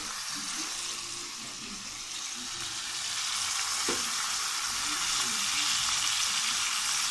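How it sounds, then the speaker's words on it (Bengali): A fish head sautés with ground spices in a hot pan for a fish-head and dal dish, giving a steady, close hiss of sizzling that swells slightly louder toward the end. No speech is heard. "কষাবো আগে মাথাটা ভালো মতন কষাই, তারপরে ডালের সঙ্গে কষাই"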